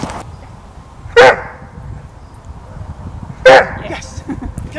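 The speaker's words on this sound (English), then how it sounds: "We'll see if we can get him to bark from frustration." A Doberman in protection training gives two sharp, loud barks close by, about two seconds apart, against a quiet, low background.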